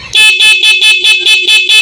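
Dual contact horn fitted to a Euro Griffin 180 FI motorcycle sounds in eight quick, evenly spaced loud honks, close and shrill with a bright two-tone blare and no talking.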